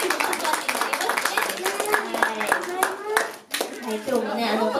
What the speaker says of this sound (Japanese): 拍手 拍手ね